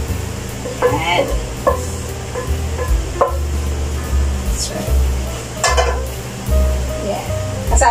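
Bacon sizzling in a pan as it is moved around and lifted out, a steady fry hiss with sharp scrapes and clinks of a utensil and low background rumble.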